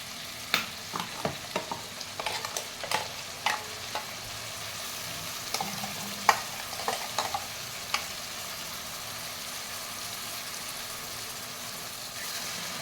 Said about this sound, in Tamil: இப்போ வந்து அரைச்சி வச்ச மசாலா ஊற்றிக்கலாம்.